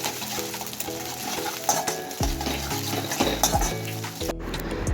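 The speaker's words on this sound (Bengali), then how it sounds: "তারপরে চিকেনগুলো দিয়ে দিলাম, দেখো ভালো করে এবার এটাকে একটু করে ফ্রাই করে নিব।" Chicken pieces frying in hot mustard oil with onions in a pan, a steady close sizzle with occasional stirring and scraping of a utensil against the pot, no voices.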